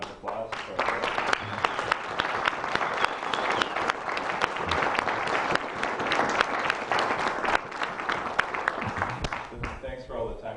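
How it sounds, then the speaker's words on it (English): An audience claps together after a research presentation on medicine, a sustained round of applause at moderate level with a few voices mixed in, tapering off near the end. "I think we should all give a round of applause for our"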